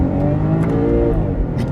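The engine of a BMW 540i xDrive M Sport sedan revs loudly and close up, climbing toward 6000 RPM with a strong harmonic whine over a deep growl.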